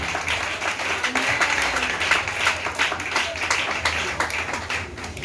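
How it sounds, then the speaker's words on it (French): A church congregation applauds and claps steadily throughout, a dense, continuous wash of hands at moderate loudness with voices mixed in. "Acclamons Jésus."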